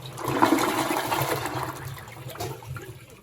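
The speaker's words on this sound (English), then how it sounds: "We're going to go ahead and flush it." A toilet fitted with a PIKETS non-electric dual-nozzle bidet attachment flushes with a steady, close rush of water that lasts about three seconds and gradually eases off. No one speaks.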